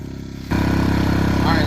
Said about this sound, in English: to find a generator at this price point, compared to like some of the old Hondas, where they're super quiet